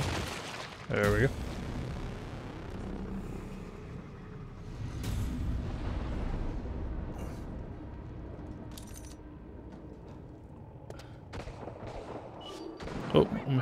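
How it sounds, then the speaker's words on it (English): Gunfire in the survival horror game The Evil Within 2 sounds in distant, muffled bursts under a low ambient rumble, with a few sharper reports near the end. "Oh, I'm hearing gunshots."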